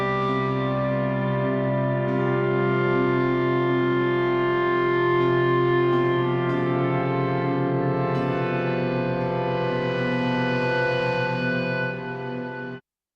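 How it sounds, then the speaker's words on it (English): A post-rock guitar preset from Sonora Cinematic for SoundBox, with distortion, rings out in thick sustained chords that swell and hold for about twelve seconds before cutting off abruptly, with no talking. "It's got a little distortion on it."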